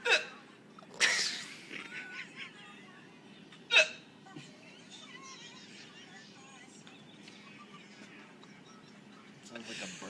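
A man's sharp hiccups, two loud ones early and another a few seconds later, are heard close up amid quiet background noise and faint murmuring voices.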